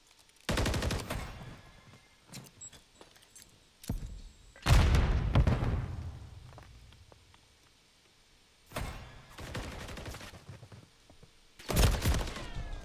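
Bursts of video game gunfire, several loud, separated volleys of rapid shots with quieter stretches between them and some heavier impacts, set against low background noise.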